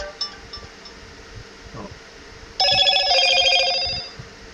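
A short, bright electronic chime rings out after a quiet stretch, a few melodic tones layered together, clear and close, then fading.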